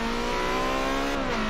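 Race car engine in a racing video game lapping Watkins Glen, a steady sustained drone holding a near-constant pitch with a slight dip near the end, loud and close with no talk.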